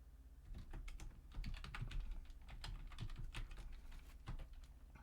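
Soft keyboard typing while editing text in the vim editor, a quick cluster of quiet key clicks heard over a low steady hum, with no one speaking.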